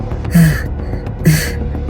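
Short, sharp gasping breaths, two quick heaving inhales from an out-of-breath person in an animated school story, close and separated by a brief pause.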